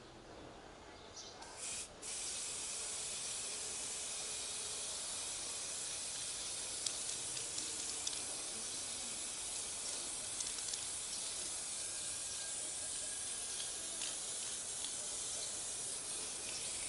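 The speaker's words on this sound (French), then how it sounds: "on va maintenant prendre la bombe à peinture dorée" A can of gold spray paint hisses in one long steady spray while coating a glass bottle, the continuous jet starting after a couple of brief shakes or taps and holding close and even throughout.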